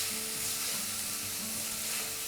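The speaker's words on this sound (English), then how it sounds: "Now we'll saute till the aroma is released and the paste is not raw" Green chili paste for chicken pulao sautéing in a hot pan, giving a dense, even sizzle that holds steady and close throughout the short stretch, with no talking.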